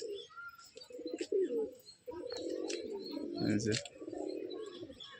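Tumbler-type flying pigeons let out of their loft coo in low throaty bursts, with a brief lull partway through, then a steadier overlapping stretch of calls punctuated by a few faint higher chirps.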